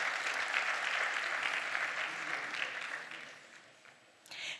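A conference hall audience at a Turkish informatics congress award ceremony applauds steadily, a dense wash of clapping that fades slightly before a short final swell.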